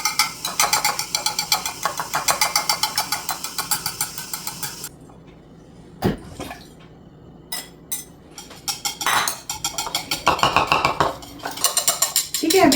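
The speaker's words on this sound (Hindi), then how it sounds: "अब इन सारी चीज़ों को हम मिक्स कर लेंगे।" French toast batter is stirred in a bowl, a rapid rhythmic clatter of a utensil against the dish with pauses between bursts and little talk.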